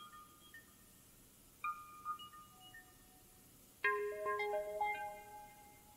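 A synthesized electronic ringtone chirps in short melodic bursts, quiet and clean, with a brief pause before a brighter, busier phrase.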